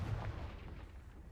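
The Confringo spell in the video game Hogwarts Legacy lets off one short, muffled explosive blast that quickly fades, quiet and alone.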